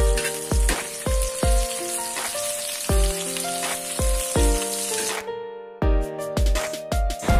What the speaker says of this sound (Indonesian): Ini aku lanjut aja aku goreng terongnya pakai minyak bekas tempe tadi.